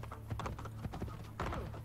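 Horse hooves clopping from Gerard the horse in Assassin's Creed: Brotherhood, a quick run of knocks with background game sounds and a brief whinny.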